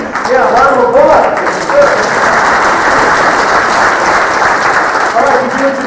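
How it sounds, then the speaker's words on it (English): Audience applause at a township community safety meeting, a dense, loud, steady wash of clapping filling the room, with a few voices and cheers mixed in near the start and end. "round of applause"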